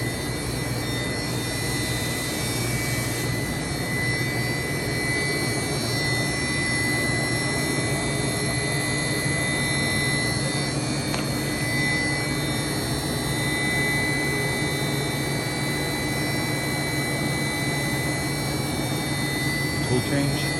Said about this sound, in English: Tool change.